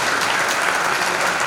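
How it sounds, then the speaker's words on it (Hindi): An audience at a village temple sermon claps steadily, a dense, even burst of many hands close by without pause. "अरे ताली तो बजा दी, ताली बजाने से क्या है?"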